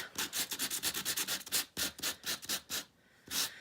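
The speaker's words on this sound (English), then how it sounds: "I'm going to start sanding on this raised part" Rapid rhythmic rubbing strokes of sanding on raised stamped cardstock, scratching off color, repeated back and forth with a short pause near the end.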